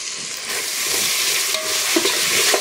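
Tomato and ginger paste frying in a pan while being stirred for a chicken fish curry, a steady close sizzle with a few scraping stirs near the end.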